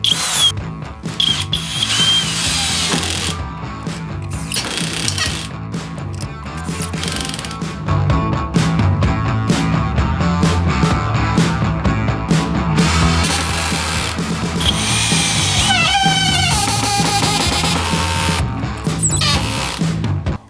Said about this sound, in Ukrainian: давайте зробимо тест з ходинкою і перевіримо, наскільки тут добре відрегульована муфта